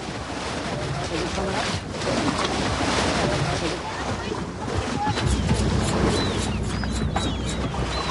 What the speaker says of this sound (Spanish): El problema son estas olas.